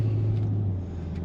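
Cadillac CT5-V Blackwing sedan, a 668-horsepower car, its engine holding a deep steady drone that eases off slightly as it pulls, heard from inside, brief and continuous with no voices.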